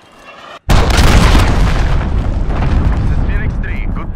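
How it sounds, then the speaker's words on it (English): Cruise missile strike in Modern Warfare: after a sudden cut to silence, a huge close explosion erupts and rumbles on, slowly fading while its deep roar lingers, with a voice faintly audible near the end. "Allied cruise missile launched."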